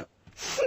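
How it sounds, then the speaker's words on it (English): A single short cartoon sneeze, close and sharp, ending in a breathy burst. "Achoo! Bless you."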